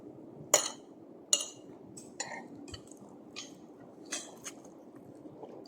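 Plates and dishes clink at a home birthday meal, with a few sharp, bright clinks spaced apart and softer clatter between them in an otherwise quiet room.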